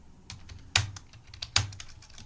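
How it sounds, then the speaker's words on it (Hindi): Keys on a computer keyboard are tapped in short bursts, with two louder clacks standing out among lighter taps, while a street name is entered into TallyPrime accounting software. "अब यहाँ पर रांको रोड लिख देंगे।"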